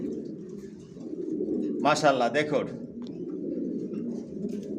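Racing pigeons, young Johnson racers, coo in a home loft. A single throaty coo sounds close by for about a second, set against a low room hum and brief speech.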